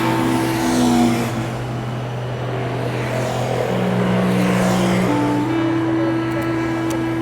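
Street traffic in Istanbul, with a continuous engine drone and car horns of varying pitch sounding at intervals as vehicles pass nearby.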